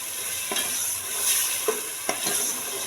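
Peas are stir-fried in masala in a pan, a soft continuous sizzle broken by a few distinct scrapes and knocks from a stirring spoon.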